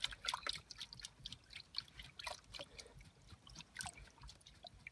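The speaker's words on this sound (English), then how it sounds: "Simply submerge the sieve in the tub of water." A sieve of crushed gold ore goes under in a tub of water, giving soft, quiet sloshes and scattered drips with small splashy bursts spread over a few seconds.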